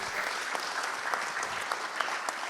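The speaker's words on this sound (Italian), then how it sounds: "Io farei un applauso a Giovanni Manildo" An audience applauds Giovanni Manildo at a Veneto meeting with land reclamation consortia, steady dense clapping throughout with a few sharper individual claps standing out.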